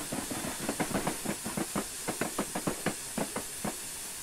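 A4 Bittern steam locomotive in Train Simulator chuffing steadily, a rapid regular train of sharp hissy exhaust beats over a constant background steam hiss, fairly close and with no voices.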